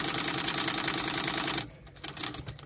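A home sewing machine runs at a steady fast stitching whir, then stops, leaving a few scattered clicks and light handling sounds.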